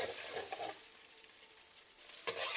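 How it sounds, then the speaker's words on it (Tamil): Eggs frying in a pan for crab puttu kottu, a steady soft sizzle with faint stirring scrapes, close and fairly quiet. "முட்டையும் நல்லா ஃப்ரை ஆகட்டும்."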